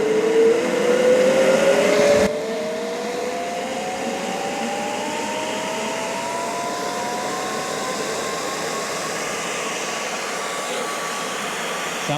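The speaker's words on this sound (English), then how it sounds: "I'm going to hit the on and off switch right now. Fans powering up." LANGXUN LX-1200 foam party machine fans powering up, a loud steady whir whose pitch rises gradually as the motor spins up, first with a louder burst, then settling into a continuous hum.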